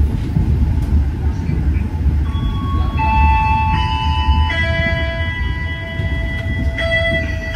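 Steady low rumble inside an Argo Lawu executive train travelling at high speed, loud and continuous, with sustained tonal notes from an onboard chime or melody layered over it partway through.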